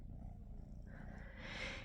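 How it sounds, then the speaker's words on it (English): Two kittens purr close by, a faint, steady low rumble with a soft rising hiss near the end, and no voices. "they both purr like little motors"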